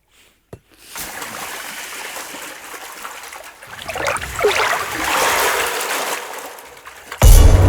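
A man steps down into water and wades through it, making a steady run of sloshing and splashing that grows busier midway and ends with a heavy thump.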